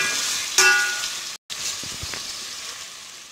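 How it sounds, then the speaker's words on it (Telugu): Chicken for biryani frying in hot oil, a steady soft sizzle with a stirring scrape near the start, a brief dropout midway, then quieter bubbling and a few light clinks against the pan. "ఒక గరిటె తీసుకొని బాగా ఆయిల్లో వేయించాలి"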